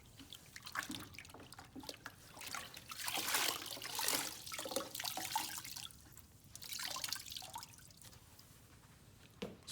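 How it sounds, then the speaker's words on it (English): Water drips and trickles from a Troxell grout caddy sponge that has been soaked in warm water and wrung out, a quiet, continuous patter with scattered splashes. "soaked in warm water and then wrung out, perfectly back to form"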